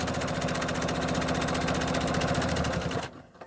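A sewing machine stitches a zipper bag with a steady, rapid mechanical rumble running close and continuous, then cutting off abruptly near the end.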